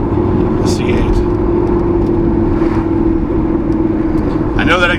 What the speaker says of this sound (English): I know that exhaust sounds good though